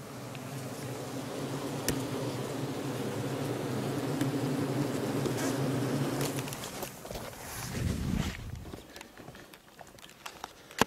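Bees buzz around a beehive in a flowering orchard, a steady low hum close by for most of the stretch, then handling noise and rustling take over near the end.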